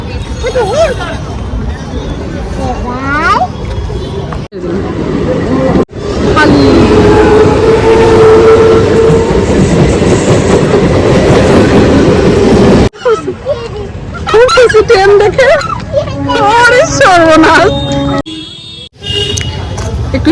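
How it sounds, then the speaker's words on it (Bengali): Train pulling into a railway station, a broad rumbling roar that swells and holds for several seconds amid platform crowd babble and nearby talking, with clipped cuts between segments. "ট্রেন ঢুকছে একটা"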